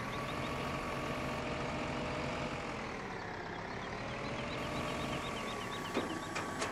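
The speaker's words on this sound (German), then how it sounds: "der kleine Traktor hier schafft das doch wirklich ganz gut" A small tractor's engine in Landwirtschafts-Simulator 15 on the Sosnovka map during direct seeding, a steady droning hum with slowly shifting pitch, close and continuous, with a couple of faint clicks near the end.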